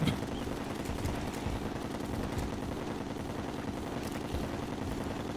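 Homing shots fire continuously in the video game Terraria, a dense, rapid rattle of gunfire-like bursts that keeps a steady level throughout the whole stretch.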